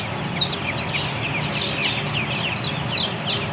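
Broiler chicks and other fowl on a poultry farm chirp and cluck continuously in a dense, overlapping chorus of high peeps, fairly close and steady throughout, with no talking.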